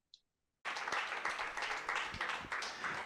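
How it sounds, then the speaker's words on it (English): Conference audience applauding a professor after a research integrity talk in Nigeria: after a brief tap, dense sustained clapping from many hands fills the room at steady volume. "I think the applause can be a lot louder, a lot bigger for Professor Morenike Folayan."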